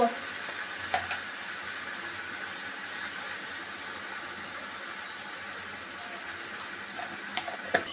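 Malabar spinach fries with green chillies in a pan, giving a steady soft sizzle throughout, with faint stirring clinks near the start and end.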